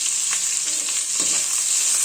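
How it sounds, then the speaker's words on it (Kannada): Curry leaves and garlic fry in a pan with a steady, close hiss, and a few soft stirring scrapes come through. No voices. "ಕರಿಬೇವಿನ ಸೊಪ್ಪು, ಇದನ್ನೆಲ್ಲ ಸ್ವಲ್ಪ ಫ್ರೈ ಮಾಡ್ಕೋಬೇಕು."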